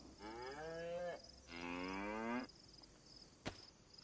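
A cow moos twice in a survival video game, two long drawn-out lowing calls with rising harmonic bands, fairly close, followed by a brief sharp click and faint background ambience.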